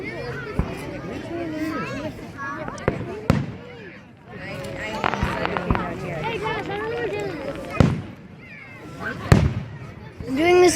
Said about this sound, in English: Why don't you just sit here and watch the damn fireworks?